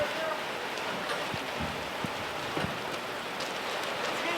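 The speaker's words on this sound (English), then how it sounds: "it never rains in the desert. This is weird. It's hailing." Hail and rain fall in the desert as a dense, steady hiss with scattered sharper taps of hailstones striking nearby surfaces, continuous and moderately loud.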